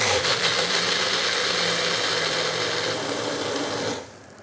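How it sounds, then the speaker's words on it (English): Magic Bullet blender whirring through frozen hot cocoa with ice, a loud steady high-pitched motor grind that runs continuously, then cuts off near the end. "Now you just blend it up."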